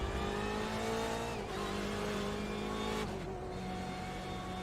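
On-board engine of a BMW race car, a loud continuous high-pitched roar that stays near and steady, with slight drops in pitch as the driver shifts or lifts, and no voices.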